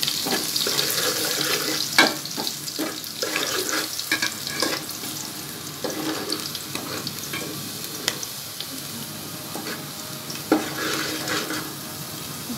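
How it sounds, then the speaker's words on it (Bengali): Garlic fries in oil with a lightly salted, continuous crackling sizzle close by. It is broken by repeated scraping stirs and a few sharper clacks of a utensil against the pan. "তেলটা দিয়ে রসুনটা ভাজবো। হালকা একটু লবণ দিয়ে ভেজে নেব।"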